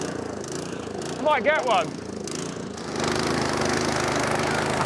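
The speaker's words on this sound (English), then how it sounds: "This is a Canadian lawnmower." A lawn mower drones steadily in the background, getting louder and rougher in the second half, while people talk over it and a brief burst of laughter or excited voices rises near the middle.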